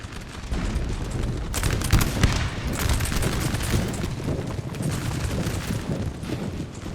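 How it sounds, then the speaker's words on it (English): Rapid, overlapping musket volleys crackle from massed infantry lines in a Napoleonic-era battle from the Napoleon Total War game, a dense continuous rattle of gunfire with bursts swelling and fading, no voices. "beautiful volleys from the Poles, keeping them up, keep it up, boys"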